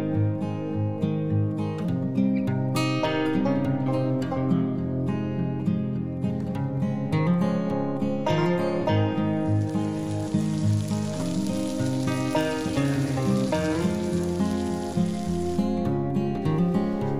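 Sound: egg biryani masala gravy simmering in pan

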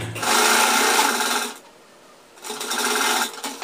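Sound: sewing machine stitching a pajama pocket

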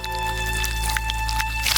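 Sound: berry syrup being poured into a bowl

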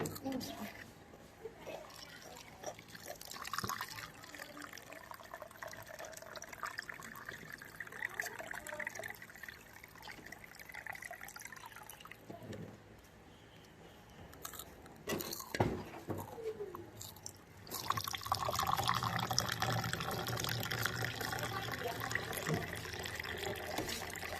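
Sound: pouring salt water brine

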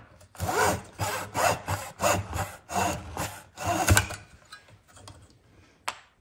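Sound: hand sawing wooden trestle bents for a model railroad

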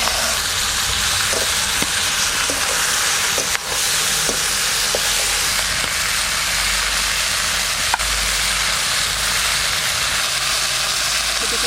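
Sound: frying hilsa fish head in oil with added pieces

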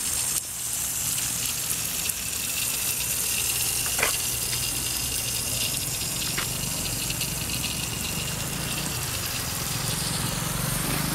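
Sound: drinking water running from a tap

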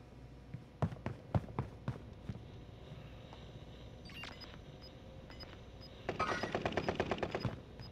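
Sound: gunfire from the video game Call of Duty Warzone

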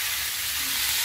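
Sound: water added to sizzling frying spices

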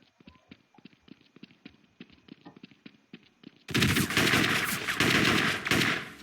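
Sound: gunfire from Counter-Strike: Classic Offensive, video game

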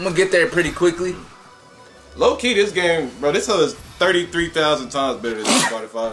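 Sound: sneeze

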